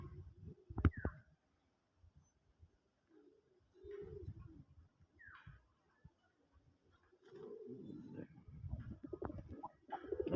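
Caged pigeon giving low soft cooing calls in short bursts, close by and fairly quiet, with a few scattered rustles and knocks between the calls.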